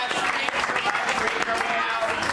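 Applause rings out at a press event, a continuous crowd clapping heard under overlapping talk, fairly loud and even across the brief moment.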